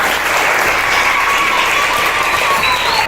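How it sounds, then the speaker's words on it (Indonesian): A classroom of students applauds together at the end of a lesson on making magnets, steady dense clapping filling the room with faint high tones running through it. "beri tepuk tangan buat semua"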